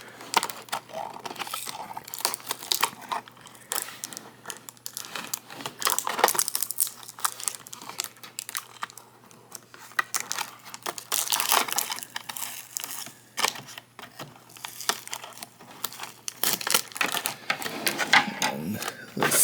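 Plastic toy packaging for a Jurassic World Spinosaurus figure being cut and pulled open, with close irregular crinkling, snipping and tearing bursts that come and go in quick clusters.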